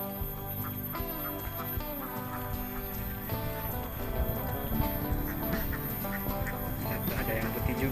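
Several domestic ducks from a flock of about 180 quack amid steady background activity, close and fairly loud throughout, while a faint voice now and then joins in.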